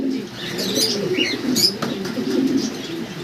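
A pair of racer pigeons coos steadily up close in low, rolling murmurs, with occasional higher chirps and rustling mixed in and no talking.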